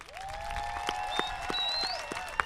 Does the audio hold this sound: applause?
yes